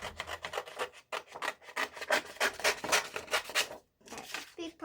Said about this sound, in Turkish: Kuyruğunu kesiyorum.